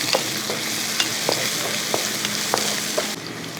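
Chopped onion and green chili sautéing in a pan for a potato dish, a steady soft sizzle of frying with scattered stirring scrapes and clicks throughout, close and without talk.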